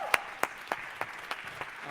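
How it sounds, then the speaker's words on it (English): Sparse, slow clapping after a panel discussion at a Freedom Songs event, about seven separate claps spaced evenly apart, thin and somewhat distant over a quiet room. "Please give our panelists a strong round of applause"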